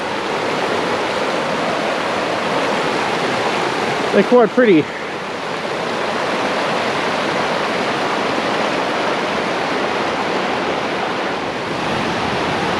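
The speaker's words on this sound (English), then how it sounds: "a bit of flowing water" Water flows steadily where two small creeks meet in the Tom Groggin highlands, a continuous broadband rush that stays even throughout, with a brief spoken remark near the middle.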